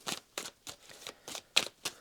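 Tarot cards shuffled by hand in a series of about seven quick, crisp riffling bursts at a steady rhythm, close and fairly quiet, with no talking.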